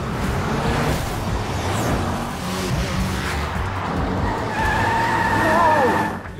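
Cars roar through an action-film chase, with engines straining and tires skidding. A high squeal rises near the end over the continuous loud motor noise.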